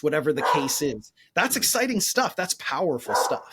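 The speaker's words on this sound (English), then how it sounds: "I don't know if you can hear my dog in the background." An excited dog barks in the background, several sharp bursts scattered under steady close conversational speech from a person talking throughout.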